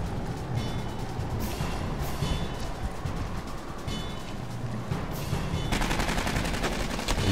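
Enemy gunfire in the video game Aliens: Colonial Marines, loud rapid bursts of automatic shots with a few sharp cracks, steady and close amid game noise.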